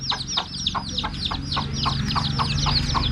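Rain-soaked chickens cluck in a steady, rhythmic series of calls close by during rain, with a low background rumble underneath.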